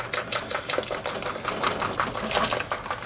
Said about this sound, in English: Next, what I'm gonna do, I'm gonna get my whisk.